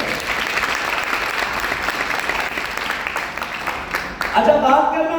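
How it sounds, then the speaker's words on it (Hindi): A crowd claps steadily at a talk, sustained even applause filling the space for several seconds before a voice begins speaking over the tail end. "तालियां बजा सकते हैं।"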